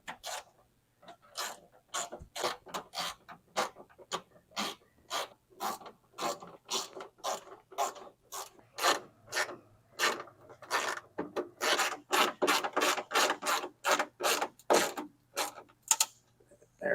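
Screws being driven by hand around the perimeter of a Firebird car during final assembly, a close series of short ratcheting and rasping bursts in an uneven rhythm, with quiet pauses between.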